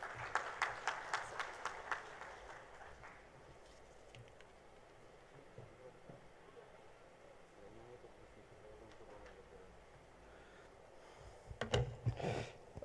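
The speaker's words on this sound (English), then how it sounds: "Amidst your huge round of applause, let's welcome him on the podium" Audience applause welcoming a speaker to the podium at the inaugural session of a finance and insurance summit: a brief burst of clapping at the start, then quieter room sound, with another short clap flurry near the end.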